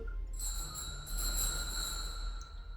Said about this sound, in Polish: Glocken to są dzwoneczki.